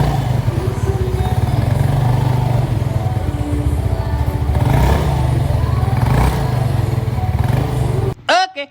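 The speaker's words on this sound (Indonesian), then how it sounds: "ownernya ngeluh motornya ini geredek ya guys" A Yamaha Fino scooter with a worn, neglected CVT idles steadily, a close continuous engine drone carrying a rough rattling clatter throughout, ending abruptly in a brief cutoff and a few clanks.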